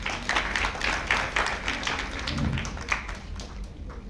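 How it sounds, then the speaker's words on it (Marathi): An audience at a formal gathering gives loud, dense applause for Prof. Dr. Gautam Kamble, clapping steadily throughout and easing slightly toward the end. "यांच्यासाठी जोरदार टाळ्या."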